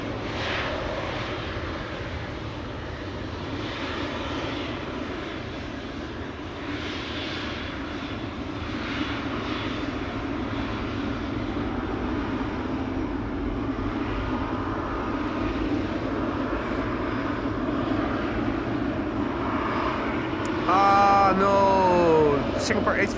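A Boeing 777-300ER airliner at Amsterdam Schiphol Airport gives a steady, loud jet engine roar that persists throughout and swells slightly near the end, with a person talking over it.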